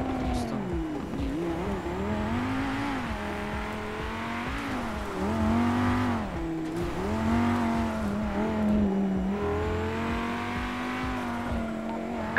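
A car driving in the video game GTA V, with a steady engine drone whose pitch rises and falls as it speeds up and slows down, continuous and fairly loud throughout, with no talk.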